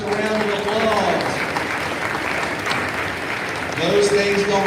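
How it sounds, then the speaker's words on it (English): A school convocation crowd gives steady applause for the state championship girls' tennis team, a sustained wash of clapping with a voice speaking over the start and end. "Give those ladies a round of applause."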